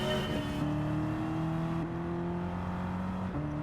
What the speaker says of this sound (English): So this is the Dodge Charger's lap.